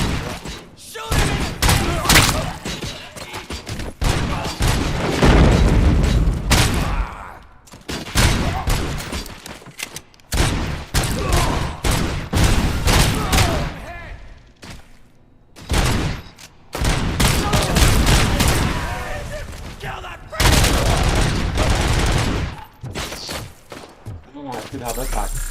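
Bursts of gunfire in RoboCop: Rogue City come in dense volleys separated by brief gaps, loud and close over game dialogue and voices.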